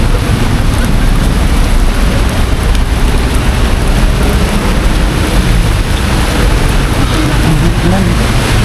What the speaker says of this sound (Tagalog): Magdamag na naman itong ulan dito.